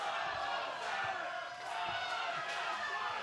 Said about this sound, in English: Tyler Centron leading the crowd in a Bravo sucks chant